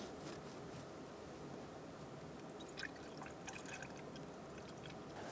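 Coolant pours into a 2012-2018 Ford Focus radiator as a faint, steady liquid rush and trickle, heard alone without talk.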